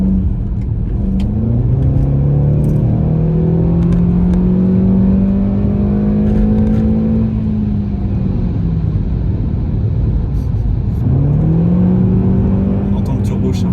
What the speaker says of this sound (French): On entend le turbo chargé, c'est vrai.